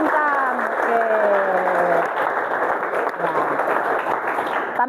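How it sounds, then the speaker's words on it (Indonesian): A group in a classroom claps together in a short burst of applause, with a voice speaking over it throughout. "Ya, tepuk tangan untuk Bintang."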